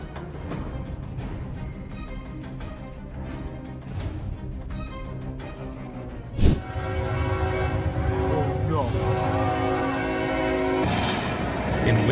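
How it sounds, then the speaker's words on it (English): Freight train near Sleepy Eye, Minnesota rolling toward a grain truck on the tracks, heard from a dashcam: a long blaring horn with rail rumble, then a sudden loud impact bang followed by louder continuous grinding and rumble. "Dashcam video captured a crash between a grain truck and a freight train near Sleepy Eye, Minnesota"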